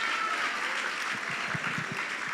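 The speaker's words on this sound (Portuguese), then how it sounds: "nós pode aplaudir o Senhor" A church congregation at a family worship service with the Lord's Supper applauds, a fairly soft, even patter of many hands heard from some distance, steady throughout.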